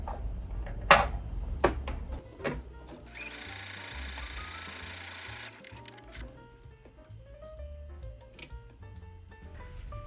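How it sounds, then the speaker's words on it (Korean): A Brother sewing machine stitches fabric along a 1 cm seam allowance at stitch width 2.0 and length 2.5, steady close mechanical whirring and ticking after a few sharp clicks, with no talking. "딱 1cm 시접으로 재봉이 됩니다."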